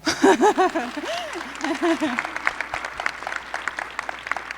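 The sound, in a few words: audience applause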